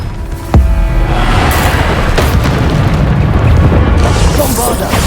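A Bombarda explosion spell goes off in the video game Hogwarts Legacy, a sudden loud boom followed by a sustained rumbling blast, with game voices and effects layered over it.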